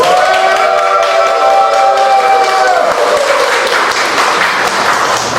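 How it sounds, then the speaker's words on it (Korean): Strong, sustained audience applause at a university poetry recital honoring a retiring professor, loud and even throughout, with a held musical tone fading out under the clapping in the first half. "오늘 큰 박수로 시작해 주시겠습니다."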